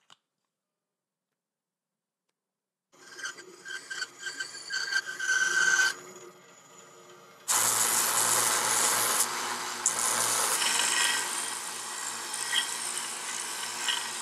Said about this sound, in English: Something that you can do is add it to a drill.